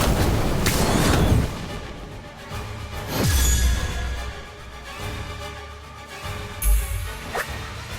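Incendio fire spell cast in Harry Potter: Magic Awakened, heard as sharp whooshing swishes and deep booming bursts that flare up and fade over several seconds, with no voice.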